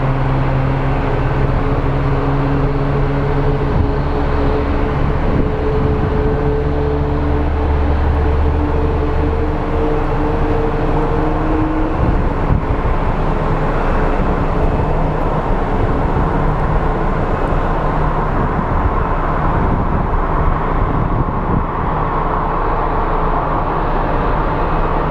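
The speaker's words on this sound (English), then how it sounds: "We have our Salt Lake City bound flight taxiing right now." Airbus A320 airliner taxiing at Phoenix Sky Harbor airport, a steady loud rumble and engine whine that holds throughout, with low tonal hums shifting partway through.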